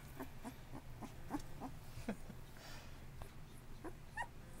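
Newborn Bullmastiff puppies whimper and yip in a run of short, high cries scattered through the clip. The cries sound close but soft over a low, steady indoor hum, and no one speaks.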